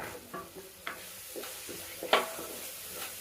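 Tomatoes go into a pan of frying fish curry, with a soft, steady sizzle and a few spoon-stirring scrapes plus one sharper clatter near the middle, close by and fairly quiet.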